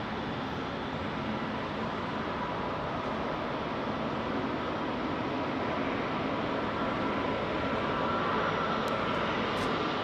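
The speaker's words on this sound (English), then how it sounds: "Look at this freighter, folks." A freighter aircraft on Heathrow runway 27R sends out a continuous broad engine roar, steady and moderately distant, with no voices heard.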